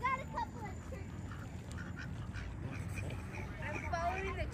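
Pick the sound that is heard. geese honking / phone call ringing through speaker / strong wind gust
geese honking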